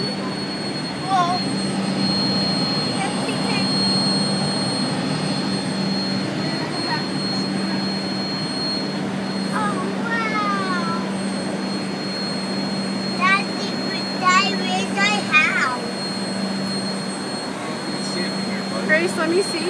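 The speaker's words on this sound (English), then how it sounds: "Do you like being up in the airplane?" Steady broadband engine roar fills the passenger cabin of an airplane in flight, a constant drone with a low hum throughout, while people talk over it.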